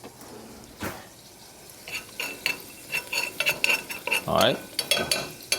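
Garlic frying in a pan for homemade tomato sauce, stirred with a metal utensil: a low sizzle under irregular scraping and clinking that grows busier midway, with a brief spoken word near the start.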